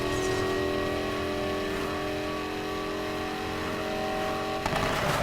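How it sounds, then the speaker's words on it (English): A muscle car in NFS Heat roaring under a NOS boost, its engine holding a steady, loud, rising drone that continues without a break before a brief shift in tone near the end. "Alright, hitting the NOS now."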